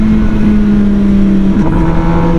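MV Agusta Brutale 1000 motorcycle engine running loud and close, a steady droning hum with a short shift in pitch partway through as the throttle eases, no talk.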